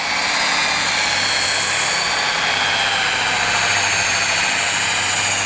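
A rotary polishing machine from a 3D polish kit runs steadily on a car's paint surface while sanding scratches are polished out, a close, constant whirring hum with a broad hiss and no pauses.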